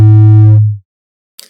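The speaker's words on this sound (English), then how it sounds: "this way we can have self-oscillation" A self-oscillating synthesizer filter rings out a loud, pure low sine tone with faint harmonics, holding steady for over half a second before decaying away, then silence and a brief faint hiss near the end.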